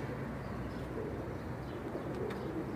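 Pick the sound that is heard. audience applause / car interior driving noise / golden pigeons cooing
golden pigeons cooing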